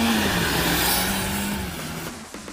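A Toyota Hilux Revo GR Sport pickup driving at about 60, with steady engine drone and road rush close up, the engine tone slowly easing down toward the end.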